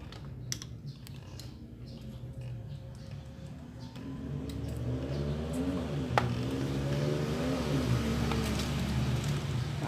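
A Yamaha Vixion motorcycle engine with a rough-running fault hums steadily through its exhaust, rising gradually in level around the middle and holding a dense, throbbing drone with tapping mechanical ticks on top and no talking.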